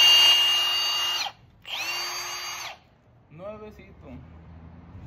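New Milwaukee 12V cordless drill, two short bursts of high whining motor spin close by, each a second or so long, followed by someone speaking.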